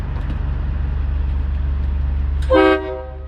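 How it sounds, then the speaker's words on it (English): After a steady diesel engine idle from a first-generation Cummins farm pickup truck, a loud, brassy train horn blasts once for a short burst, then cuts off as the idle continues. "everybody loves the train horn setup on it"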